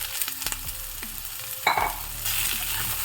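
Onion petals and diced capsicum sizzle in hot oil in a pan, a steady close frying hiss broken by a few sharp scrapes and clinks of a spatula stirring, with no voices.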